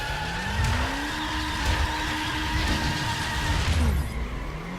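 A Subaru drifts in The Crew, its tires squealing in long sustained skids over a steady engine drone, with the pitch sliding up and down as the car swings through the turns.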